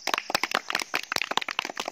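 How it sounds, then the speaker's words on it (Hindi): An audience claps at a Sanskrit shloka recitation competition: a dense, uneven patter of sharp hand claps from a small crowd, close and lively, lasting briefly with no speech. "तालियां बजाओ भाई"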